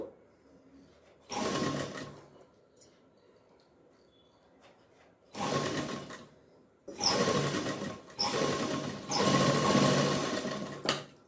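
A sewing machine stitching a blouse runs in three bursts, one short, then two longer whirring runs separated by pauses, close and loud with no talk.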